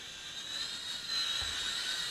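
A small Syma X5SC-1 quadcopter toy drone hovers and flies close by, its four tiny propellers producing a continuous high buzzing whine that holds steady throughout.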